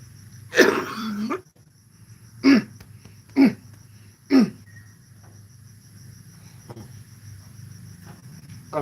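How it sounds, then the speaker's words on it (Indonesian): A person coughs several times in loud, separate bursts, with one longer harsh fit first and three short coughs after, set against quiet insect chirping in the background. "Minta maaf kak ini kalau batuk-batuk kakak."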